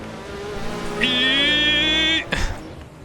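Race car engine from the game Gran Turismo 7 revs hard and climbs steadily in pitch as it accelerates down a straight, loud and close, then cuts off abruptly near the end.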